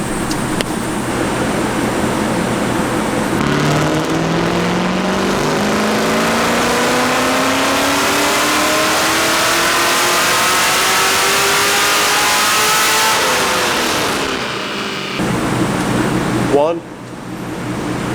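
An LS1-swapped BMW E36 M3 with a built LS1 engine is pulled hard on a dyno, its loud, steady roar climbing in pitch through a long rev sweep before dropping off, with voices faintly under the engine noise.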